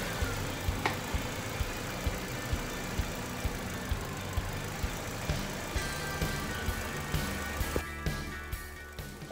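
A Chevrolet car engine idles after engine flush has been added, a steady rough hum with regular faint ticking pulses, recorded up close in a workshop with no talking.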